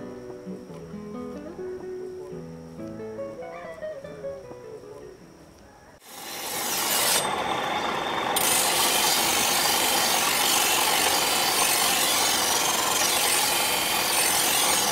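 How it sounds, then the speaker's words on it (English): A traveling knife grinder sharpens metal gardening tools such as pruners, shears and cultivators on a farm planting day, a loud, continuous rasping grind of metal on a spinning wheel that starts abruptly after a stretch of soft melodic music. "The amolador or the knife grinder prepares gardening tools like pruners, shears and cultivators for their use on this important day."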